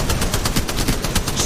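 Rapid automatic gunfire from the video game Apex Legends, a loud, steady stream of closely spaced shots lasting over a second with no talk.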